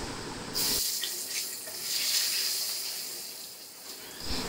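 Water poured steadily into a cooking pot over chilli powder and green chillies, a continuous hissing splash that starts abruptly and runs for several seconds before cutting off.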